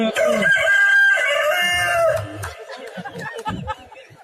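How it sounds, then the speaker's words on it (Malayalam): Rooster crowing close and loud in one long drawn-out call, followed by a few short clucks and rustling noises. "അക്കോഴിയല്ല, അത് പൂവൻ കോഴിയാണ്"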